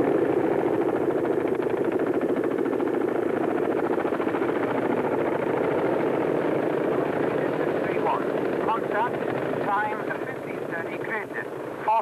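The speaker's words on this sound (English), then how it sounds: "Six helicopters landing to my front. The Chinooks with four vehicles under strong." Military Chinook helicopters land during a 1980 exercise, a loud continuous rotor thrum that fills the scene steadily, with someone talking over the radio toward the end.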